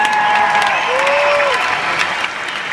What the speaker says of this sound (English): we could applaud Lucius